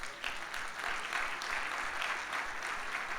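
A congregation claps together in a steady, moderately distant applause with a roomy, even texture lasting throughout.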